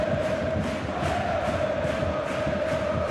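Stadium crowd noise in the FC26 football game, from a Bayern Munich versus Juventus match: a steady, dense roar of cheering fans fills the whole stretch at an even level, with a faint sustained tone running through it.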